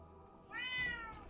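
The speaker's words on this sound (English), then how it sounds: "One of my cats" A cat meows once, a drawn-out, rising and falling call close by, standing alone over faint background hum.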